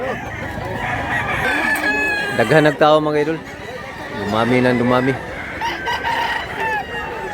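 Roosters crow repeatedly at a busy provincial chicken market in Mantalungon, Cebu, two long crows standing out among other birds and a steady crowd murmur, with someone talking over the scene.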